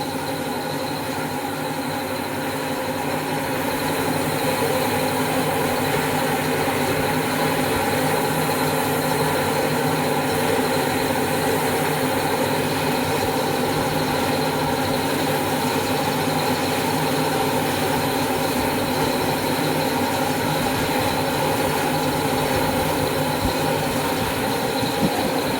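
A Hyundai Creta engine, rebuilt at another workshop and brought in for repair, idles with a loud, steady, dense drone that continues evenly throughout without any talk.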